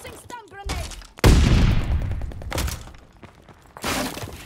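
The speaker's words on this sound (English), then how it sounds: "Tossing stun grenade." A stun grenade detonating in a shooter video game: a sudden loud crack and shattering burst that rings out and decays over a couple of seconds, with brief voices and further gunfire-like bursts around it.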